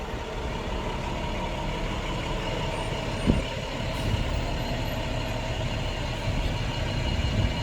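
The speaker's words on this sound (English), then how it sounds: "this truck in the way" An old diesel delivery truck idles and rumbles nearby, a steady low engine drone with a brief hiss partway through.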